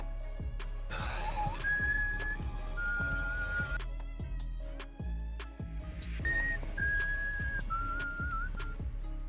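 A person whistles a short tune in a film scene, clear sustained notes in two phrases separated by clattering sounds and a brief gasp, fairly close and loud.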